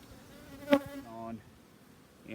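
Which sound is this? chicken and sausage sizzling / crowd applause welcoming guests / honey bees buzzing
honey bees buzzing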